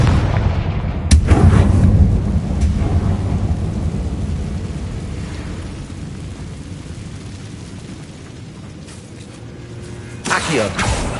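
Confringo fire spell from Hogwarts Legacy: a loud, booming blast near the start, then a long rumbling roar that slowly fades, with a second burst near the end.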